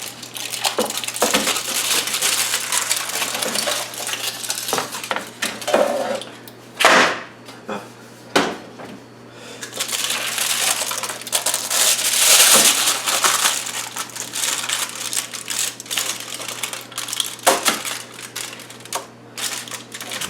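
Sharp cracking and crunching as hardened homemade toffee is snapped into pieces, with repeated close breaks and crinkling between them.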